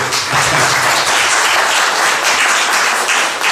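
Loud, dense applause from a live audience at a coffee-house music performance, sustained evenly throughout without voices.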